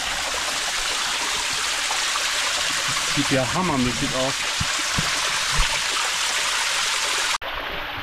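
Water rushes steadily at a waterfall inside a cave, a broad loud hiss filling the whole clip, while someone speaks briefly over it partway through.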